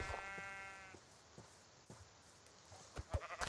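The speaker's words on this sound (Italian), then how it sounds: "Guarda qua, muori la pecora!" A sheep in the Minecraft video game lets out one wavering bleat at the start. Faint clicks and soft game noises follow.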